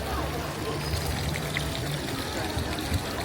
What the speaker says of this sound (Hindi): इंतहाई ठंडा पानी है, लोग बोतलें भरते हैं इसमें से